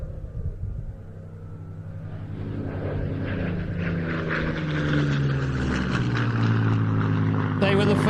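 A Spitfire Mark 16 with a Packard-built Rolls-Royce Merlin engine, painted in 309th Fighter Squadron colours, at an airshow: the engine's rumbling drone swells from faint to loud as it approaches, under a commentator's voice.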